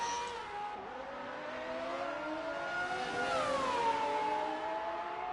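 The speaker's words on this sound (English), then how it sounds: "They do sound nice, these cars" Racing cars lapping the Baku street circuit, engines whining and rising in pitch as they accelerate, the tones sliding and shifting as cars pass, loud and continuous with no talk.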